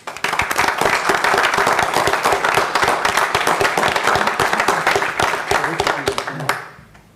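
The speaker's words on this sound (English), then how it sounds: "I'd like to give them a quick round of applause." Applause at a village board meeting, a fairly close burst of many people clapping with distinct individual claps, holding steady before fading out quickly at the end.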